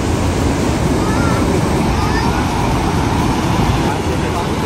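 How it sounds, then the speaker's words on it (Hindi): Water pours down at Mukkha Falls near Sonbhadra in a loud, unbroken roar of broadband rushing that holds steady throughout. "वहाँ पे गिर रहा है पानी तो देखिए यहीं पे गिर रहा है अभी"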